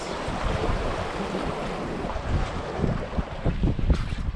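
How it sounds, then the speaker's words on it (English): Ocean swells rolling in at a Rhode Island fishing shore in rough conditions, a steady rushing wash with wind buffeting the microphone, no talking. "Here come the swells."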